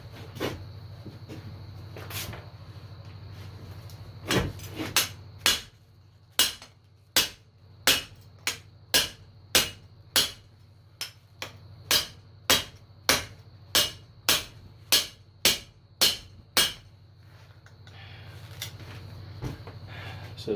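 A knife hacks into a piece of aluminum tubing, about twenty sharp metallic chops in a quick, fairly even rhythm over a steady background hum, close and loud.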